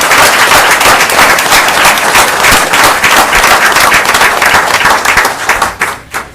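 Audience applause for a borough police department at a Bloomingdale council meeting: dense, steady clapping from a roomful of people for about six seconds, tapering off at the end.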